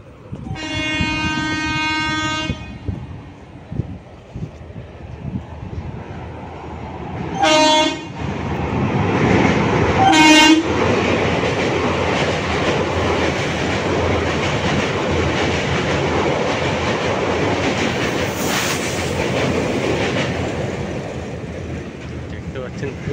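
A passenger train bound for Masagram via Dadpur thunders at high speed across a rail bridge near Bankura, opening with a harmonic horn blast, then two more short horn bursts over a loud, continuous wheel-and-rail roar and rattle that fills the rest of the clip.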